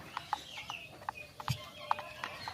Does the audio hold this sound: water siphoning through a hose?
no